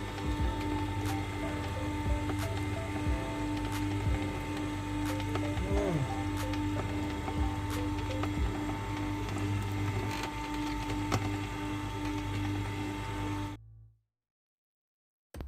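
An Optimum 600 XL cold press juicer runs with a steady mechanical hum and faint clicking and grinding, recorded nearby at moderate volume, then cuts to silence near the end.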